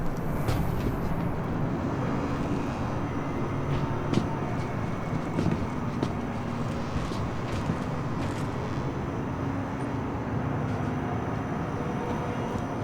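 A train pulls into a station in the video game Star Citizen, at the Lorville City Gates on Hurston. A steady rumbling rail and machinery drone runs throughout with faint clanks, and no one talks over it.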